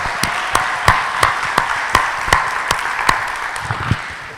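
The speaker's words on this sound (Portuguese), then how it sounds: "pode aplaudir o Senhor" A church congregation claps during a worship celebration, a steady run of distinct claps over a constant mid-range musical or crowd bed, moderately loud and without talk.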